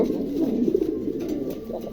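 Soft, low pigeon cooing murmurs steadily throughout, close by with no talking.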